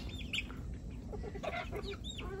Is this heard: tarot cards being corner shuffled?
no